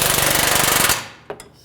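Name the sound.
power tool snugging down control arm bushing bolts on Chevrolet Malibu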